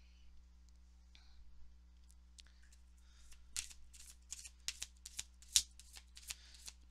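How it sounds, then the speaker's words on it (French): Oracle cards being drawn and shuffled by hand, faint soft rustles at first, then a quick run of crisp, close riffling snaps in a quiet room over a low steady hum. "je vais aller sortir votre premier 4 cartes"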